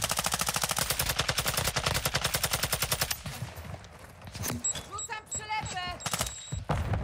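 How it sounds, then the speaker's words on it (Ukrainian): Rapid machine-gun fire in Call of Duty Modern Warfare II DMZ rattles loudly in a tight, even burst for about three seconds, followed by quieter game sounds, clicks and ringing tones. "Хтось стріляв, так у мені коло вуха"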